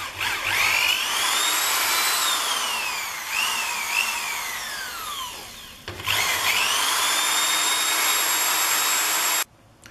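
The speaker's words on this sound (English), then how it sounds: "I'm going to drill the holes in the plates, get them lined up where I want them, drill the holes in the chassis" A power drill bores holes through metal plates for an electric car chassis conversion, its motor whining and bogging in rising and falling pitches across a long steady run, close up, with no talk.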